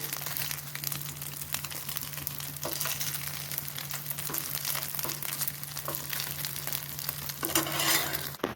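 Rice paneer pieces shallow-fried in a little oil in a pan, a dense continuous crackling sizzle heard close over a constant low electrical hum, with occasional soft clicks and no voices.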